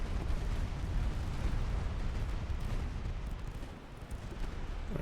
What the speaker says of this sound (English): There's a torpedo hit.